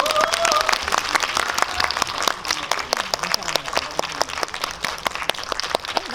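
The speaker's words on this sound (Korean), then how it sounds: "박수로 맞이해 주십시오." Audience applause greets a film director, lead actress and music director arriving for a special guest-visit screening talk at a Lotte Cinema hall, a dense steady clapping crowd filling the room for about six seconds with a brief voice at the start.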